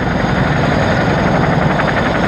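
British Army helicopter idling up close before takeoff, a loud, dense engine and rotor roar with a fast throbbing pulse, continuous throughout with no voices.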